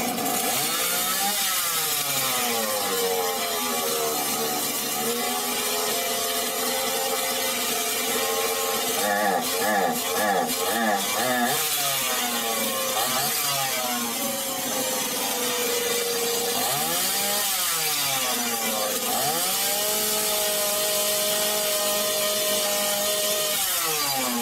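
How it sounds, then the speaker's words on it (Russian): A Stihl 180 chainsaw engine, with its carburetor being adjusted for stalling under throttle, runs continuously and loudly up close, its pitch wavering and rising and falling with throttle changes throughout. "пила вышла на рабочий режим"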